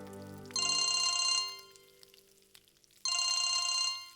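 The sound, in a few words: phone ringing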